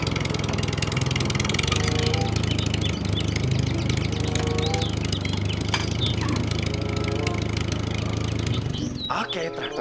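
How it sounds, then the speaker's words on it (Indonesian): A toy tractor's recorded engine sound, a steady droning idle with a low rumbling tone that runs almost the whole time and cuts off abruptly near the end. "Ini adalah traktor."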